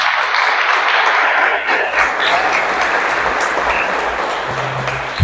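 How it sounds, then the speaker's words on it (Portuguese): Congregation applauding at a church conference, a dense, steady wash of clapping that fills the whole stretch at close range with no break. "pode aplaudir Jesus."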